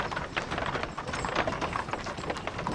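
Hooves of many horses clip-clop steadily as circus horses of Buffalo Bill's show are unloaded from a train convoy at a station in Chartres, a dense, continuous patter of close, overlapping footfalls with no speech.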